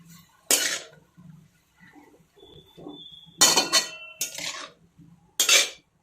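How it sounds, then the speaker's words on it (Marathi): Vegetables being stirred and mixed in a cooking pan, giving several loud, short scraping and clattering bursts of a spatula against metal, with quieter gaps between them and no talking. "भाजी सर्व अशी मिक्स करून घ्यायची।"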